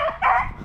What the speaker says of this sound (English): What's louder than three beagles playing in the snow?